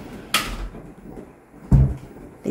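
A household door or cabinet door opens and then shuts with two sharp knocking clunks about a second and a half apart. A third softer knock follows, heard close in a quiet room.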